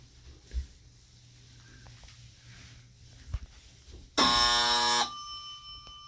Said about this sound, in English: So we pressed the alarm button here.